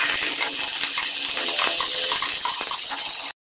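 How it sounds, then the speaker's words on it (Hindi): Okra (bhindi) sizzles and crackles in hot oil in a pan as it is sautéed for bhindi do pyaza, with a dense, close, continuous frying hiss and light stirring clatter that cuts off abruptly at the end. "तेल के अंदर इन्हें थोड़ा सा सोटे कर लेना है, मतलब बहुत ज्यादा नहीं पकाना है, हल्का हल्का से फ्राई कर लेना है।"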